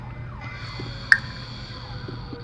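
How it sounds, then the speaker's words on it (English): An emergency siren wails faintly in the distance outside on a downtown street, a thin, steady tone sitting low beneath quiet room noise, with one short sharp click partway through. "Excuse the siren in the background."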